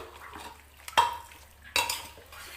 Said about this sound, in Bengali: এবার আমি মাংসটা এইভাবে একটু এমনি নেড়ে দেবো